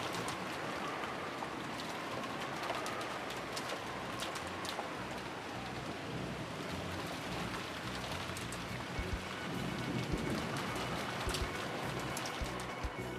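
Steady rain falls and patters on surfaces in an English fan dub of the Umineko visual novel, a dense continuous hiss with scattered drop taps running the whole time, without talk.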